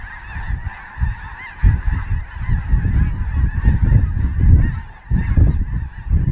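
A large flock of geese honking continuously at Lacassine National Wildlife Refuge, Louisiana, in winter, loud and close, with dense overlapping calls and no voices.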